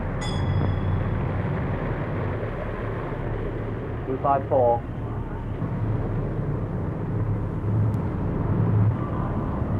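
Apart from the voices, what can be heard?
tank landing craft engine manoeuvring in strong tide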